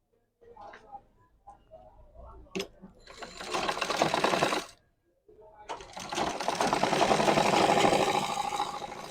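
A sewing machine stitches trousers in two rapid runs of needle chatter broken by a short pause, with tailoring handling clicks and a voice speaking in the gaps.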